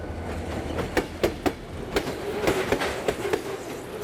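A train pulling into Hogye station, with a series of rhythmic clickety-clack wheel knocks over a steady rail rumble, close and moderately loud, with no talking.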